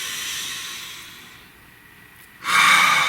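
A slow, deep breath drawn in softly and released as a louder, airy exhale, close and alone with no talk.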